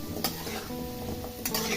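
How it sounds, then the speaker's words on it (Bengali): Diced potatoes frying in oil over a medium flame, a continuous close sizzle with a couple of sharp utensil scrapes against the pan as they are stirred, no talking. "আলুগুলো 3-4 মিনিট সময় নিয়ে ভেজে নিব।"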